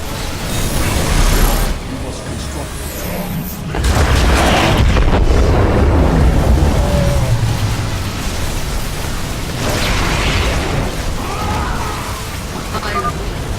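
Void shard destroyed in StarCraft 2: a loud booming explosion bursts in around four seconds, with sustained rumbling blasts and game effects layered over continuous background noise and music.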